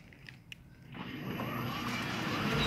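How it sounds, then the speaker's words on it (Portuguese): A Jetflex PPA motor drives a tilting gate a little over five metres wide, a mechanical whir that starts faintly after a few small clicks and builds steadily louder over a couple of seconds. "Olha a força desse motor, portão de 5 metros e pouquinho."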